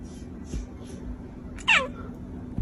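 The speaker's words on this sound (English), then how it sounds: "It's the little meow that gets me." A short, high, rising-then-falling meow sounds once over a quiet room hum, preceded by faint soft noises.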